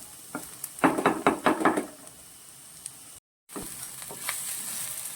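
Onions and green chilies for a Kerala thoran being stirred in a pan, giving a run of close scraping, rustling strokes with a faint sizzle that tapers off into quieter pan handling.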